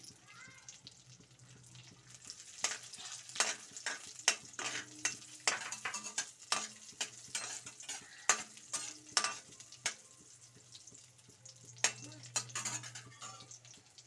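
Ghee sizzles in a pan for carrot halwa while a spoon stirs and scrapes, the clinks and scrapes coming in quick irregular bursts over a steady frying hiss at close range.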